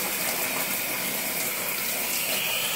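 Water rushing steadily in a Costway twin-tub washing machine during a rinse, a constant close hiss and gush with no break.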